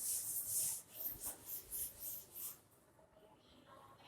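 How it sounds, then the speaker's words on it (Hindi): Chalk or marker writes on a board during a maths lesson, heard as a series of quiet rhythmic scratchy strokes, roughly seven, that stop about halfway through, followed by faint room noise. "इसके बाद लिखेंगे"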